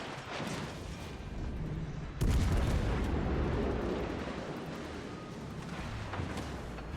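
Heavy warship main guns boom in World of Warships Legends, a sharp loud salvo blast followed by rolling rumble and continuing low battle noise.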